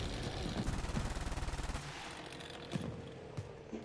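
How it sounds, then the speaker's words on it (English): Tank guns firing in a World War II tank game featuring the Italian M13/40: a rapid burst of loud repeated shots that gives way to a few scattered, sharper reports over rumbling battle noise. "He keeps sending shots in, not leading it quite right."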